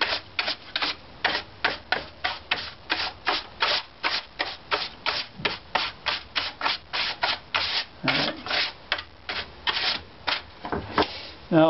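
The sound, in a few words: brush applying ground to violin top plate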